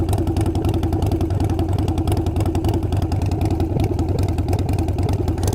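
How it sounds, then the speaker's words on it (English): Harley-Davidson Sportster motorcycle with a loud aftermarket exhaust, recorded close as the engine runs and revs with a continuous rapid lumpy throb and clattering rasp, loud and alone. "it's a loud exhaust"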